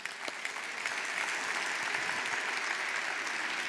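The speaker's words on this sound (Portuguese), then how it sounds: "dê um aplauso a ele." A church congregation applauds after a sermon on the blood of Jesus, a dense, even burst of clapping that swells slightly and holds steady throughout, with no speech.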